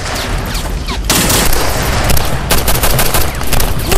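Heavy gunfire erupts in a TV-series firefight at a military outpost, dense bursts of automatic fire and shots overlapping loudly and continuously after a brief quieter opening, with no talk.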